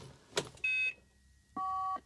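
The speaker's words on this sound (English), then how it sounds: "It makes a bleeping noise." Two short electronic beeps from a Rolls-Royce Silver Spirit's car phone powering up at ignition, a higher tone then a lower one, preceded by a faint click, quiet and close in a still interior.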